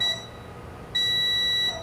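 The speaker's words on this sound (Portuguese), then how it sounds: "um capacitor aqui bipando dos dois lados" Two high, steady electronic beeps from a multimeter on continuity testing across a shorted capacitor on a phone board during a repair, each lasting under a second, close and clear over faint background hum.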